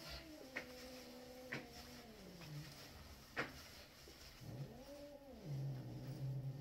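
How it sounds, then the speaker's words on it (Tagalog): Pet cats chasing each other indoors, with a few sharp thumps and scuffles and a couple of drawn-out, wailing cat cries rising and falling over steady background noise. "nagpapasaway na naman yung mga pusa namin. Naghahabulan na naman."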